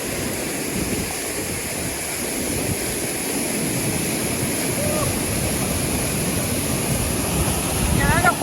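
Oliyappara waterfalls in Kerala, a continuous broadband rush of falling water, loud and steady throughout, with a faint voice briefly near the end.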